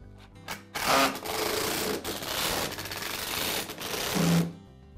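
Screws being power-driven into the plastic switch housing of a Black and Decker lawn mower during repair, giving a steady whirring, grinding buzz for several seconds with a short pause, up close and with no talk.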